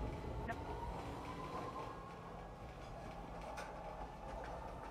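A train in the Star Citizen video game rolls along a station platform, a faint, continuous rumble with light rail clatter and a few sharp clicks, beneath a steady background hum.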